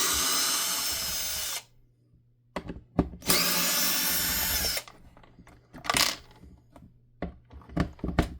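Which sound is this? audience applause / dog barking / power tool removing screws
power tool removing screws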